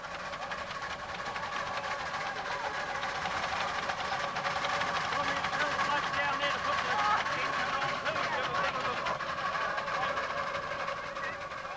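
Model train hauling a long string of passenger cars with four engines around a complete circuit at a New Zealand venue, a steady continuous rolling rumble of wheels and running gear throughout, with a faint voice in the background.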